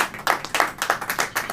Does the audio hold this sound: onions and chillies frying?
no